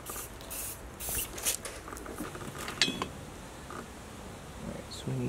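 A can of black spray paint sprays in several short hissing bursts, close by, followed by quieter clinks and shuffling.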